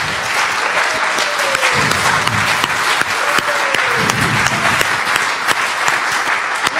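Church congregation applauding throughout, a dense, steady wash of clapping that stays loud and even from start to finish, with faint musical tones drifting beneath it.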